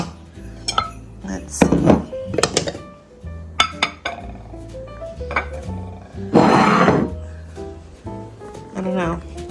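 Decorative bowls for a black-and-white Christmas table display being swapped and set down, several sharp ceramic clinks and knocks scattered among quiet handling, with a person talking briefly in between.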